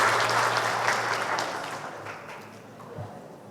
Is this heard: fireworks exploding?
no